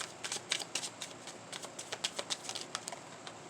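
Playing cards are shuffled repeatedly in quick, crisp riffling bursts, close and fairly quiet, forming an uneven rhythm over about three seconds.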